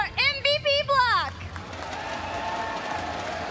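Arena audience at BlizzCon 2017 cheering for a Heroes of the Storm team, a broad roar of crowd noise following a voice with sustained faint babble.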